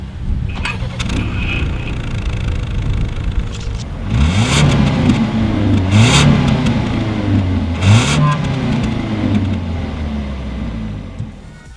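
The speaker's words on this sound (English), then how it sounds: "As always, here is that exhaust clip." A Ford Edge with a 6-speed automatic idles roughly, then revs hard three times, each burst rising and falling back through the exhaust, loud and close.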